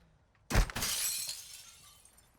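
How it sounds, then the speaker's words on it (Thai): Glass shattering in Call of Duty Modern Warfare II DMZ: one sudden crash of breaking glass followed by a bright tinkling spray of shards that fades out over about two seconds, alone without speech. "ได้ยินเสียงกระจกแตก"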